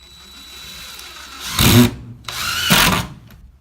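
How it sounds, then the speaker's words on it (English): Two short bursts of a power drill whirring as it drives screws, each about a quarter second, close and loud, separated by a brief pause. "keeping the bit straight going into the screws"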